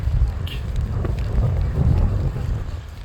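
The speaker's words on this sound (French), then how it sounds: "À côté de l'eau, il y a beaucoup de vent." Strong wind blows beside the water in Doha, buffeting the microphone with a loud, gusting low rumble that rises and falls throughout.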